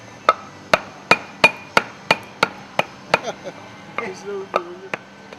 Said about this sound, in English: Use a hammer and a piece of wood to hammer the piston into place in the air cylinder.